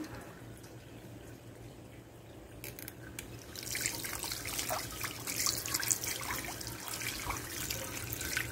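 Tap water runs steadily into a sink while hands are rinsed clean of soap, a close continuous splashing and trickling that grows louder and busier partway through.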